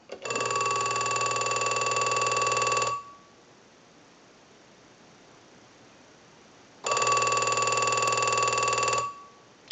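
An original Mickey Mouse telephone bell, deadened with tape, rings in two steady bursts of about three seconds each, separated by a quiet pause. The ringing is loud and clear with no talking.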